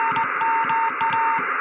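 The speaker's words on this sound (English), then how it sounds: "That's Morse code" Morse code plays on an amateur ham radio as a loud, steady tone broken into short on-off pulses over a constant band of radio hiss, with no talking.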